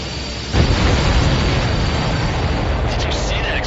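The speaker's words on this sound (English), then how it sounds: "Did you see that explosion? Looks like that's one of them down." A supply ship explodes in the flight combat game Ace Combat 7, a loud, sustained roaring blast that starts abruptly and rumbles on without fading.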